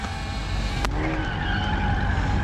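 At a car meet in New York City, a car engine roars and its tires squeal in a sustained skid, loud and close, with the screeching slide continuing steadily over the engine noise.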